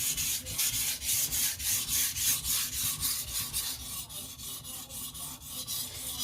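A knife's main edge is drawn again and again across a sharpening stone at about 12 degrees. The gritty rasping strokes come in a steady rhythm, close and fairly loud, with no talking.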